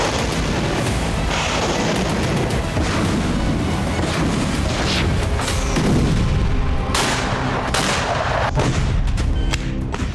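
Explosions and artillery fire in Kharkiv resound loudly, with repeated booms and sharp bursts layered over a constant rumbling din across the whole stretch.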